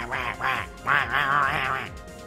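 Cartoon duck quacks in the Kingdom Hearts video game, a few loud, nasal quacks in a quick run with a brief pause after the first two.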